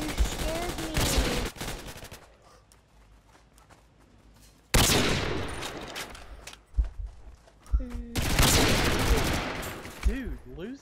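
Sniper rifle shots ring out in the Contractors VR shooter game, loud reports spaced several seconds apart, with talk in between.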